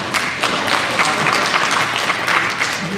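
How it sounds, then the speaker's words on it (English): A room full of people applauds town election officials, a steady wash of clapping that holds across the whole stretch at an even, fairly loud level with no voices over it. "Yes, they deserve a round of"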